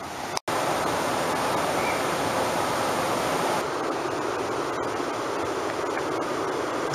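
Creek water flows at an old mill site, a steady, loud broadband rush like a small waterfall or stream that fills the whole clip, with one brief dropout near the start.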